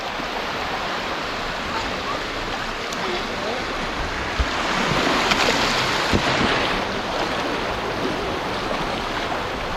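Ocean waves wash steadily onto the beach at Port Dickson in a continuous, loud surf roar that swells slightly in the middle, with faint voices mixed in.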